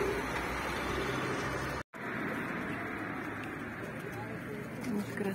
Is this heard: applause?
no